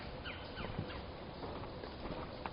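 Scattered bird calls and chirps in a quiet outdoor setting, faint and fairly distant, over a soft steady background hiss.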